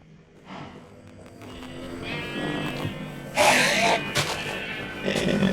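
A Minecraft sheep bleats in a barn area, a short nasal cry rising over quiet game ambience and footsteps, followed by a louder burst near the middle and more bleating toward the end.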